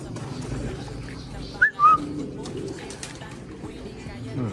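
Pigeons being given water, with soft bird calls near the middle over steady background noise and some talking.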